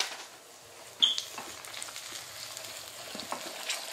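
Curry leaves sizzle and crackle in a hot pan for a chickpea curry, a steady broadband hiss with a sharp pop near the start and small spits scattered throughout, moderately close and without speech.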